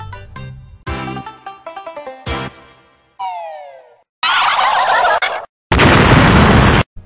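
Game sound effects from Banjo-Tooie, where a bird is handled and fired like a gun: clipped gobbling squawks and bursts, then two long, loud noisy blasts, each cut off sharply, with no talk.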